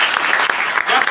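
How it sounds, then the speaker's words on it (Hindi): Hall audience applauding at a network-marketing organization's achiever recognition event, a dense steady patter of clapping filling the whole short moment with no pause. "मिस सालू जी जोरदार ताली होनी चाहिए"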